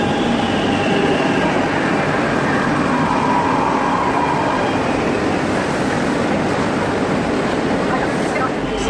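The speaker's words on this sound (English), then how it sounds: "It's on the train, dude." Steady, dense rumble of a train running on rails on the way to Plaza de Sants in Barcelona, continuous and loud throughout with no clear breaks.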